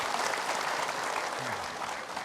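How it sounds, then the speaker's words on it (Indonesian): Studio audience applause for Ustadz Munawir on an Indonesian religious talk show, a steady, dense clapping that fills the whole moment at even volume with a faint crowd murmur underneath. "Buat tepuk tangan nih buat Ustadz Munawir"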